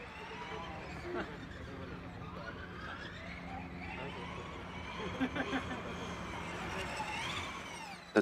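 An AMZ driverless race car driving at high speed on a track, its electric drive whine rising and falling in steady sweeping tones as it accelerates and brakes, moderately loud and continuous.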